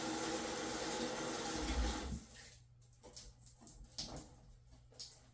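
A washcloth is soaked under running tap water with a full, loud rush for about two seconds; the flow then stops, leaving soft wet squishes and drips as the cloth is handled.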